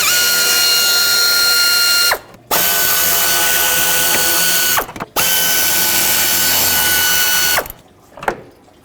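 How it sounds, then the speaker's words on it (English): A ratchet works three 8mm bolts loose from the throttle body cover of a 1997–2003 Ford F-150, three long runs of fast, close clicking, each ending in a short pause. "to actually get to the throttle body, I need to remove this cover, 3 8mm bolts"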